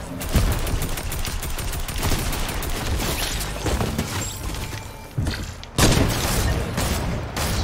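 Rapid gunfire from the video game Fortnite, dense bursts of loud shots running nearly continuously with a brief pause near the end before firing resumes.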